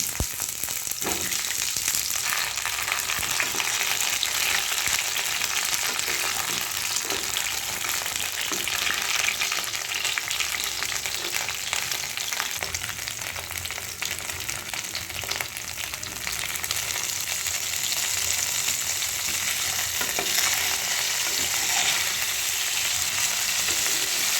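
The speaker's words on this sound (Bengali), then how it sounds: "এবার তেল গরম হয়ে গেলে আমি পটলগুলোকে সামান্য লবণ দিয়ে লাল লাল করে ভেজে নেব" Pointed gourd pieces sprinkled with a little salt fry in hot oil in a pan, giving a continuous, dense, loud sizzle that holds steady with no pauses and no voices.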